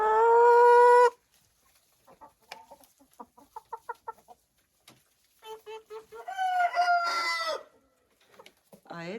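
Chickens cluck and call in a henhouse, a loud drawn-out crow-like cry opening, then a series of short clucks and a longer warbling call, close and clear.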